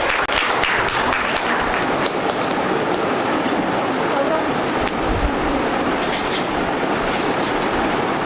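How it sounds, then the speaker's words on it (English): Sustained applause from an academic conference audience, steady and dense clapping filling the whole stretch with no break. "Let's have a round of applause for Dr. Purushottam Patil sir."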